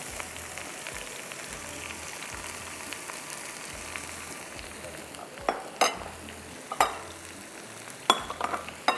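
Spinach and mixed vegetables fry in a pan with a steady hiss like light rain, and spoon scrapes and clacks grow sharper and more frequent toward the end, close by with no talk.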